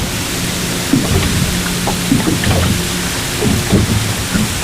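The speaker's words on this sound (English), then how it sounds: "That light freezing rain drizzle" Light freezing rain drizzle on a frigid, near-windless winter day at a fishing spot, a steady close patter of fine drops with occasional soft ticks and low rumbling underneath.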